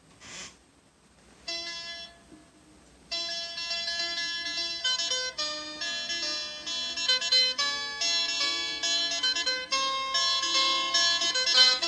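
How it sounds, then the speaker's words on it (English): Bright, ringing electric guitar notes from a 1972 Brazilian folk-rock track sustain and overlap in a busy musical passage, growing fuller and louder after a quiet start. "Hear that kind of stinging, ringing guitar?"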